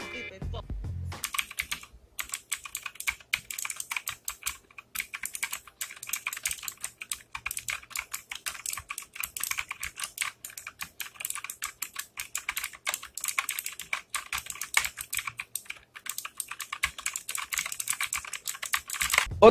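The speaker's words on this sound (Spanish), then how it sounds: "descúbranlo por ustedes mismos cómo suena este teclado" Continuous rapid clicking of an ACGAM AG-109R mechanical keyboard's keys, close and steady for the whole stretch, with no talking.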